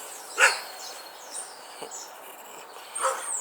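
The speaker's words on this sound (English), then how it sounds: "Dogs everywhere." Dogs barking outdoors near a garden bed being planted, a few scattered barks at a moderate distance with light bird chirps in the background and no talking.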